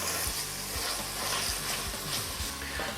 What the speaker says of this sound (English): So we'll scrape up all these brown bits, and man, that flavor of the thyme and the onions with the sherry